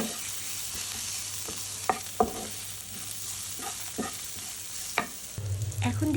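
Pointed gourd frying in mustard oil sizzles softly while a spatula stirs it, with scattered clicks and scrapes against the pan and a louder burst of frying at the end.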